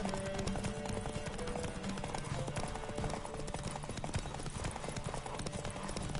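Horse hooves gallop at full speed in The Witcher 3, a rapid, steady clip-clop running loud and close through the whole stretch alongside game ambience.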